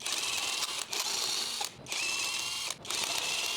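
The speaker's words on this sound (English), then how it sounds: "Removing the lug nuts with 19mm socket and electric impact." An electric impact wrench with a 19mm socket spins lug nuts off a Ford Escape wheel in three loud, close, rattling bursts separated by short pauses.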